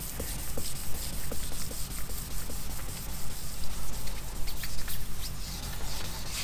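Wet sandpaper rubs steadily over the gelcoat of a 2000 Champion 202DC boat, a continuous close scrubbing hiss with faint drips and light rhythmic strokes, no voices.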